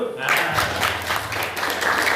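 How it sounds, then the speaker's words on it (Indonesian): Applause from trainees at a cooperative basic education and training session, rising quickly after a brief pause into a short burst of group clapping with faint voices mixed in. "Tepuk tangan dulu."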